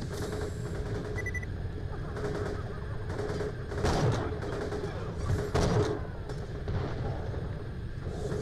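Guns firing in Borderlands The Pre-Sequel, scattered shots and short bursts popping over a constant low hum, with a few louder blasts near the middle.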